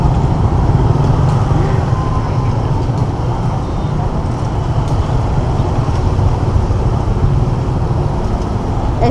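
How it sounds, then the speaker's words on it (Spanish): Dense street traffic in Hue, Vietnam, packed with motorbikes, a steady loud rumble of many small engines close by without pause, with a faint voice now and then. "Es impresionante la cantidad de motos."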